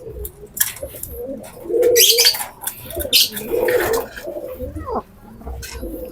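Pigeon-like cooing from a nearby bird, a few soft throaty calls repeating over several seconds with some background rustle.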